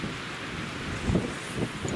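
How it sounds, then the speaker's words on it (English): Strong south-southwest winter wind buffets the microphone outdoors in low, rushing gusts, with a couple of louder swells near the middle and end. "Wind's blowing out of the south southwest. Just some crazy wind."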